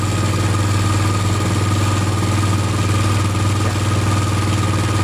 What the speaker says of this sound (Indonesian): Ini putaran mesin paling tinggi ya.